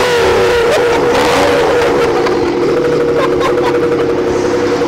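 Suzuki Every DA17W kei van engine revving as the accelerator is pressed, a loud steady engine drone that rises and holds close to the listener, with no talk over it.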